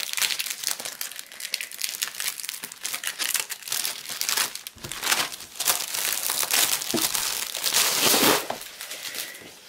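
Loud, continuous crinkling and crackling of plastic packaging being handled and torn open, close up, with bursts of sharper rustling throughout.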